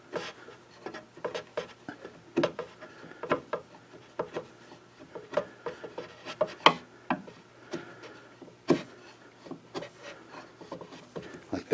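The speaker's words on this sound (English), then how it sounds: "So, chisel. I'm holding it nice and snug against the surface." A chisel works across the surface of a cherry wood spice box in a series of quiet, irregular scraping strokes and small taps, fairly close and without speech.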